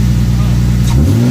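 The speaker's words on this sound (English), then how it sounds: "Give the car a little rev." A 1995 pearl white Lexus SC300 with a 2JZ-GE engine, OBX header and mid pipe, idles loudly near the microphone and then gets a short rev near the end, its pitch rising briefly over the steady low rumble.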